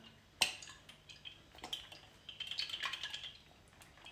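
A metal pan set down on a stovetop with a sharp clank, followed by faint clinks and a light drizzle of olive oil into it, quiet and close with no talking.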